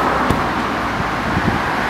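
A Peugeot rental car in Italy pulls away with a steady broadband engine and road rumble, close and fairly loud with small bumps throughout.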